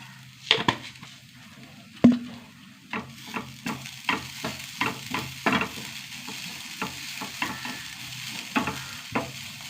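Fennel seeds roasting dry in a pan while a spatula stirs them, a steady sizzle broken by a run of sharp scraping strokes roughly every half second, close and fairly loud with no voices.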